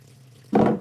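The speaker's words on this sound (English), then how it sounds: "then we are going to add 600 grams of filtered water" Filtered water is poured into a mixer bowl for sourdough dough: a short, close splashing gush that starts suddenly after a quiet pause and lasts under half a second.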